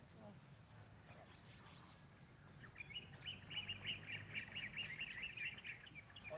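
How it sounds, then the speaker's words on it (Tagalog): Small birds chirp in quick, bright bursts at a distance in a garden farm over a low background hum. "Naririnig mo yung mga ibon kumakanta."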